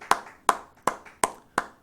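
Five sharp, evenly spaced claps in under two seconds, close and crisp with a short decay, likely from a church congregation applauding during a Korean worship service; no talking.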